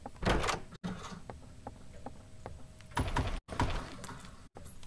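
Door opening in the Roblox horror game DOORS, with several soft thunks and latch clicks spread out over quiet room tone, separated by brief silences.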